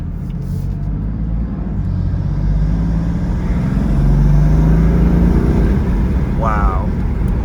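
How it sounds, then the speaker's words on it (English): A car accelerates in comfort mode, its engine note climbing steadily while a turbo spools up under it. Faint voices can be heard in the cabin. "So even in comfort mode, you hear that spool so much more"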